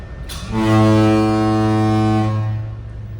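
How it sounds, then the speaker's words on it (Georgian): A tanker ship's horn sounds once in a loud, deep, sustained blast of about two seconds, rising quickly, holding steady and then fading, during a routine signal test on board. "ყოველდღიურად შევამოწმო გემის სიგნალი თუ არის მუშა მდგომარეობაში."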